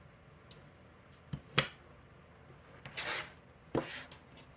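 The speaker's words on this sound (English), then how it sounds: "we're going to start with our half square triangles and we're just going to trim them apart" Half-square-triangle quilt blocks are trimmed apart, heard as several quiet, brief cutting and rubbing scrapes spaced irregularly against a near-silent room, with no talk.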